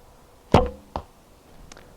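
A Black Widow longbow shoots an arrow during traditional archery practice: a sharp, loud snap of the string, then a quick thud about half a second later, followed by a faint distant knock.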